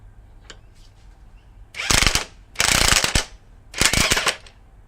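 A breaker bar turns the screw of a bushing press tool on a 2002 Honda Odyssey subframe, giving three loud bursts of rapid ratcheting clicks, each about half a second long, separated by brief pauses.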